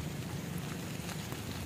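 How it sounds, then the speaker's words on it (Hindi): Light drizzle falls on a college campus at NIT Warangal, a faint, steady, even hiss with no break. "बरसात नहीं है बूंदाबांदी है।"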